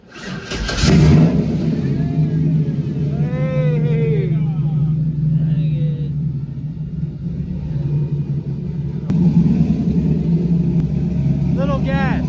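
A turbocharged Chevrolet Nova engine cranks and fires up loudly, then settles into a steady, rumbling idle close by, with voices talking briefly over it.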